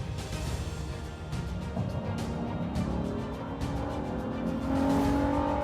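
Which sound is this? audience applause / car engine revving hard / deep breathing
car engine revving hard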